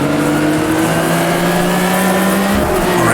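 A BMW and a Porsche race car in Automobilista 2 roar loudly up close, engines droning steadily with shifting pitch, tires squealing and a sharp rev change near the end.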